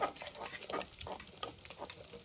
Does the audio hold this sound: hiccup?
no